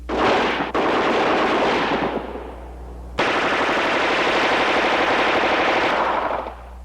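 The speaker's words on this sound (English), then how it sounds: "the airborne or armored soldier is capable of launching rifle grenades at any time with a live round, even while firing combat ammunition" HK assault rifle firing combat ammunition and launching rifle grenades at a 1970s firepower demonstration: loud, sustained bursts of rapid automatic fire, broken by one short pause and then resuming at full intensity.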